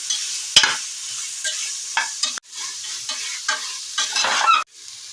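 Sautéed vegetables for a vegetable biryani are stirred in a hot pan. A spatula makes repeated close scraping strokes over the sizzle, with a sharp clack near the start and brief breaks in the sound.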